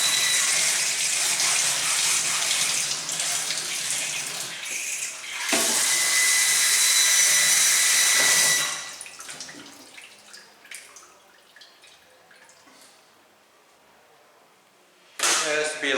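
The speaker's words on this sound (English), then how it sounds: "Now we want to wash the cutting board." A cutting board is washed under a kitchen tap, with loud gushing faucet water in bursts, scrubbing and clattering between, a quieter stretch of handling, and the tap opening again at the end.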